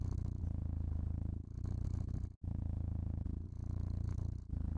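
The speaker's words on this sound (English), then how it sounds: "Just close your eyes and listen to the purring." A cat purrs steadily up close, a low continuous rumbling vibration that pulses with each breath, with brief pauses between breaths and no talk over it.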